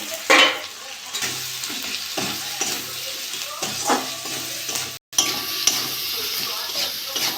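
A spice paste of turmeric, coriander and cumin powder, salt and tomato sizzles in a pan, with repeated spatula stirs scraping through the frying hiss and a brief cut near the end.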